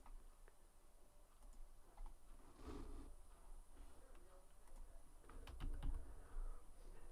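Faint, scattered clicks of a computer keyboard being typed on during a computer drafting session for a trench detail, quiet and close, over a low hum.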